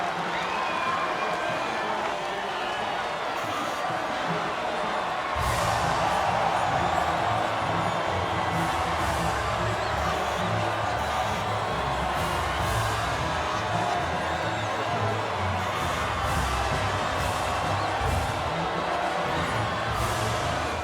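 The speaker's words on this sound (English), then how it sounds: "It's time for our podium celebrations. And taking the applause and making his way to the top step" Crowd cheering and applauding at the podium celebration after the Saudi Arabian race in Jeddah in the F1 25 video game, a dense, steady wash of cheers and clapping that runs continuously at moderate loudness.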